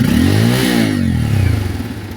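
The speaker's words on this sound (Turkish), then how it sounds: "Evet son olarak egzoz sesine geldik." A Bajaj Pulsar N250 motorcycle's exhaust revs up close at around 5000–6000 rpm, the engine note climbing and then dropping back through a loud, throaty rasp with clattering mechanical undertones.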